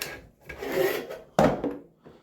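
A bolt is twisted into the plastic handle of a Greenworks string trimmer, making two or three short raspy scraping turns, close and quiet, with brief pauses between them.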